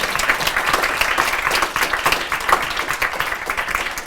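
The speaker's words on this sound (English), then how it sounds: "And a round of applause for all of our panelists." Audience applauding panelists at a panel event, loud dense clapping close by with individual claps standing out in a busy rhythm, sustained for about four seconds.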